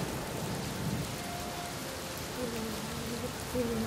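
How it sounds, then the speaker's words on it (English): Steady rain falls in an even, continuous hiss of drops on surfaces, moderately close, with a few faint tonal sounds drifting behind it. "Then came a day when it rained."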